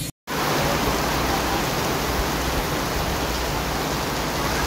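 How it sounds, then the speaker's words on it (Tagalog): Heavy rain pours down steadily and loudly during an outdoor running race, a dense uniform hiss that starts after a brief silent gap and carries on without a break. "Okay, so medyo lumakas yung ulan."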